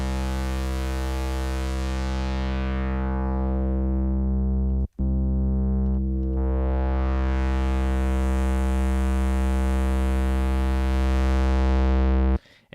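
Analog distortion effect on a synth tone played back in Bitwig Studio, a thick, buzzing sustained harmonic-rich drone with tube-style saturation, loud and continuous with a brief dropout midway and a filter sweep opening and closing.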